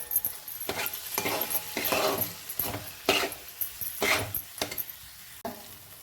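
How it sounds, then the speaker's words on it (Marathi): Onion and tomato chutney stirred in a pan with a spoon: a run of rhythmic scraping, rubbing strokes with faint sizzling, close and moderately loud, and no voices. "आणि हलवून घ्यायचं."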